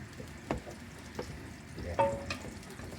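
Ingredients fry in a pan at low volume, a soft sizzle broken by a few spoon scrapes and clinks as they are stirred.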